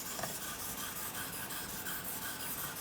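Rapid back-and-forth scrubbing strokes of a knife blade on a KME sharpener stone, a close, steady gritty rasping that repeats in a quick even rhythm without pause.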